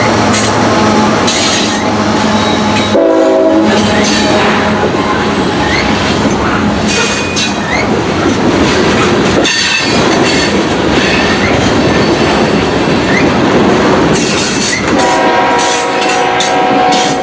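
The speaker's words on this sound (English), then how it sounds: "An ET44AH Gevo running long hood forward, hammerhead style, people call it." An ET44AH Gevo locomotive running long hood forward passes at close range, loud and rumbling, with horn blasts, clattering wheels and squealing railcars in a long continuous roar.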